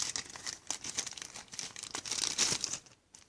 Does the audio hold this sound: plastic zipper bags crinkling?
yes